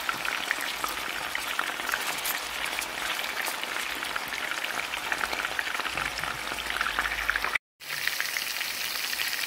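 Beef sizzles and fries steadily in a hot pan, a dense crackling hiss with close spattering that holds throughout, broken by one brief dropout near the end.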